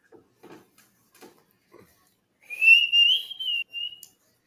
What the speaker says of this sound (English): Me whistling there is me trying to keep my mouth shut.